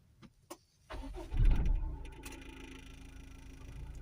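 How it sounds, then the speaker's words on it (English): A Honda HR-V with electrical issues and a PCM malfunction: after a few faint clicks, the starter cranks loudly for about half a second, then the engine catches and settles into a steady, moderately loud idle. "Okay, we're going to start the engine."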